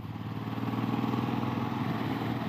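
A 2017 Honda Africa Twin DCT motorcycle engine drones while riding under gentle acceleration in fifth gear, a steady throbbing pulse heard close and fairly quiet, with no talking.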